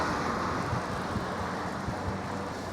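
Strong wind gusting through a city street in Milan, Italy, a steady, loud broadband roar with low rumbling buffets against the microphone and no voices.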